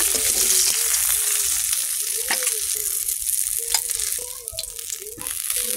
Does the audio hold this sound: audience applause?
no